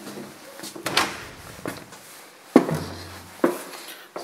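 Front door of a house being opened, heard as a few sharp knocks and latch clunks spaced over several seconds, fairly close, with a low rumble in the room between them.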